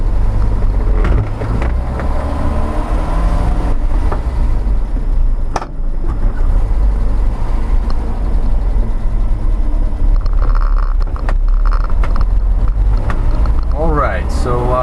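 A 1985 Toyota LiteAce CM21 truck with a 1.3-litre four-cylinder pushrod engine drives along, its loud, steady engine drone and road rumble heard from inside the cab, with wind noise and a voice speaking over it.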